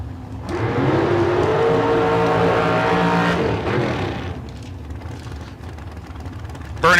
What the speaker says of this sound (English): Burnouts completed on both sides of the racetrack.